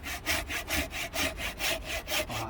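Firewood being cut with a hand saw, steady back-and-forth rasping strokes in an even rhythm, close and clear with no talking.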